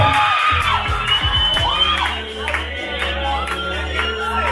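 Audience at a Beleza Negra school pageant, a crowd cheering, whooping and shouting with some clapping, lively and sustained over a steady low hum.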